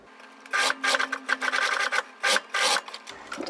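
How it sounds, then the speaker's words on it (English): A sewing machine zigzag-stitches to overlap and close jersey elastic, giving short close rasping bursts of stitching separated by brief pauses. "So I'm just going to overlap that and sew it in a zigzag or a giant N."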